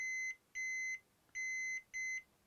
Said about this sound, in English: we should not hear a beep when I touch this middle pin